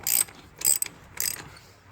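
Lug nuts being snugged on a Chevy Malibu wheel during a brake job, heard as three separate bursts of bright ratcheting clicks from a hand ratchet, fairly close, with short pauses between and no talk.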